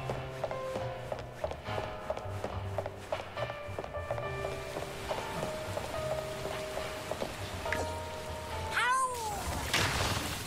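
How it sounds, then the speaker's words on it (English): Rain effect in Neverness to Everness: a steady patter of drops on surfaces, mixed with game music tones, light footsteps and a rising synthetic swoosh near the end. "Why is it raining on one side of the apartment but not raining on the other side of the apartment?"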